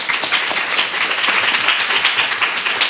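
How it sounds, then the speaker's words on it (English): Audience clapping for students standing at a 2014 human rights fellowship event in New York City, a steady dense patter of many hands filling the room for about three seconds without pause. "I'd ask them to please stand so we can just give you a little clap from your great work this summer"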